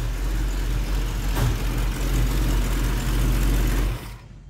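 A 1968 Ford Mustang coupe with dual exhaust idles on fast idle after a fresh start, a steady low rumble heard close and loud for about four seconds before it cuts off abruptly.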